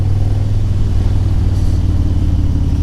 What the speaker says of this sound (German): Aber wenn man auf dem Motorrad sitzt, man hört das Brabbeln hier